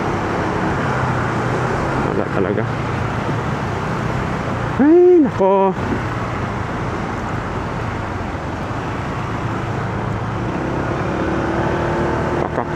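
Road traffic rumbles in a steady wash of passing and idling car engines, with a brief horn-like tone in the middle, while people talk over it.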